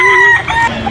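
A young stag rooster crows once, loud and close, a strained drawn-out call that drops in pitch at the end.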